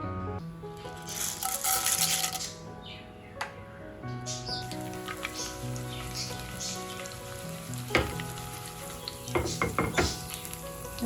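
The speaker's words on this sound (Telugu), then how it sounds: "ఆవాలు, పచ్చిమిర్చి, ఎండుమిర్చి మొత్తం కలిపేస్తున్నానండి." Mustard seeds with green and dry red chillies temper in oil, a moderate sizzle under clattering spoon-against-pan stirring, with a few louder scrapes and some background tonal noise.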